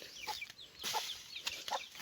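Several soft, quick clucks from a native chicken nearby, coming in short bursts over a quiet rural background.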